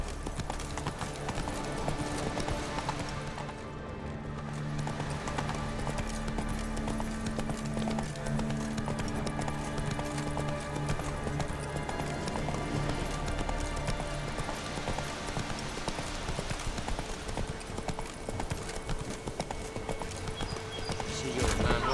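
A horse in The Witcher 3 gallops along with a continuous, even clip-clop of hooves under a layer of ambient game sound and music.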